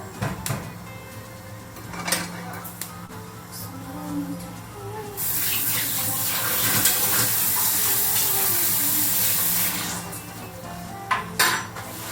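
Oil goes into a pan on medium heat for a Thai stir-fry: a loud, even sizzle swells and holds for several seconds between clinks and scrapes of a pan and utensils, with a voice briefly heard.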